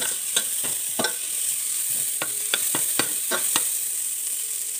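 Garlic and onion fry in a little oil in a pan, giving a constant bright sizzle broken by sharp scraping clicks of a utensil stirring at irregular intervals, close up and without speech.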